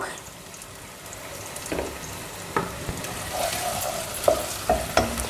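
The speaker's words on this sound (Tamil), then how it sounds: "பாருங்கள், இன்னும் கொஞ்சம் ஃப்ரை ஆகட்டும்." Potato curry frying in a pan gives a steady low sizzle, with a few sharp clinks and scrapes of stirring rising above it near the end.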